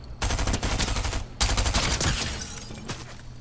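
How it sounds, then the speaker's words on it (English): Rapid automatic gunfire from a video game storm match, two dense loud bursts of repeated shots with a short pause between, no talking. "Hey, who's shooting at me?"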